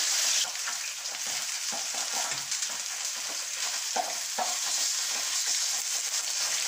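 A piece of veal sears in very hot fat, giving a loud, continuous crackling sizzle close by, with light scraping and stirring sounds over it.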